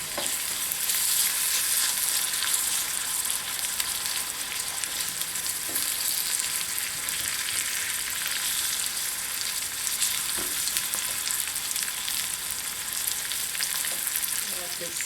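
Frittata ingredients with greens simmering in a pan give off a steady, dense sizzle and crackle that runs unbroken throughout, close and fairly loud, with no one talking.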